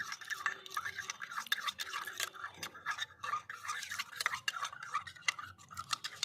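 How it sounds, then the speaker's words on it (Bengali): Surf Excel detergent being stirred into water, a close series of quick, irregular clinks and scraping swishes from the utensil against the container, repeating continuously. "এরপর আমরা গুলছি সার্ফ এক্সেলের জলটা।"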